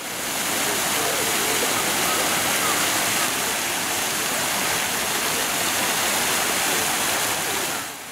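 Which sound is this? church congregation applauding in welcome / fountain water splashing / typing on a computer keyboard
fountain water splashing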